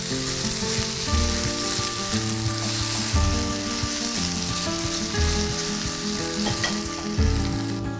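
Potatoes and sweet plantain fry in a pan, a steady, loud sizzle running throughout with a low rumbling hum underneath and no voices.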